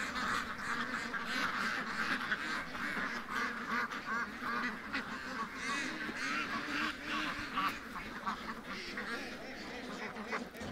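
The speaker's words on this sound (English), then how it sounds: "I see a little duck that I gotta catch" A small blind duck quacks repeatedly in short nasal bursts close by, steady and moderately loud against outdoor background noise, no talking.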